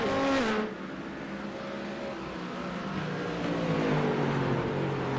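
GTD Pro and LMP2 race cars on the Watkins Glen circuit in iRacing, engines revving and shifting pitch as they round the final turn, loud at first, then a sustained drone of several cars.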